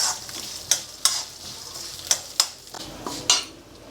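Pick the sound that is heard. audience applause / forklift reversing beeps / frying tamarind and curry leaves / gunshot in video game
frying tamarind and curry leaves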